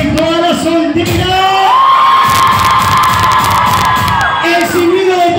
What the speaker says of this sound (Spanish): El grito de toda la soltería.